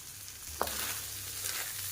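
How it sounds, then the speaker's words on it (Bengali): Chopped onion dropped into hot fish oil in a pan gives a short hiss, then a steady, close sizzle of frying that runs through the clip with no talking. "মাছের তেলটা ভাজা হয়ে গেলে এখানে কুচিয়ে রাখা পেঁয়াজ দিয়ে দেব।"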